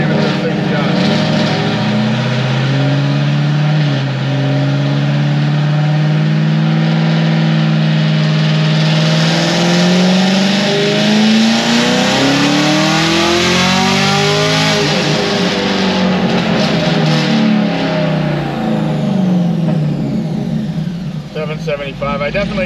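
A 2023 sixth-generation Chevrolet Camaro ZL1 built to Stage 4 with about 1000 hp, making a dyno pull in fifth gear: a loud, close engine roar climbing steadily in pitch before easing off at the end.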